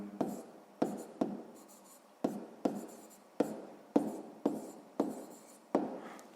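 Pen or pencil writing on paper while the short conditions of a sixth-grade math word problem are noted down, in a series of separate scratchy strokes, close and fairly quiet, with no talking.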